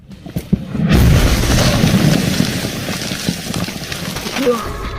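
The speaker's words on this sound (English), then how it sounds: "Shells are literally exploding 10 feet away from their positions." Artillery shells exploding close to Ukrainian defensive positions in the Kharkiv region: a sharp blast followed by a loud, sustained rumbling roar and scattered thuds, heavy and near, with no talk.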